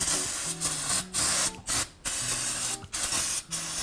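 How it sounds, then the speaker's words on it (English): Brake cleaner hisses in repeated short bursts onto the wheel hub of a Honda Accord during a brake pad and rotor job, each spray broken by brief pauses, close and fairly loud with no talking. "give the hub a quick cleaning with a soft bristle brush and some brake cleaner"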